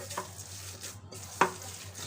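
Kebab mixture for Kolkata-style Pyare kabab being kneaded and mixed by hand until smooth, giving soft squelching and stirring sounds with one sharper slap partway through, close and fairly quiet over a low steady hum.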